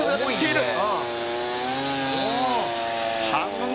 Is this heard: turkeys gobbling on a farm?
no